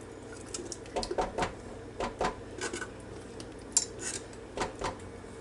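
Thick grape jelly from a 30-ounce glass jar plops and slides into a cooking pot, with scattered clinks and soft thuds of glass against metal in a quiet kitchen.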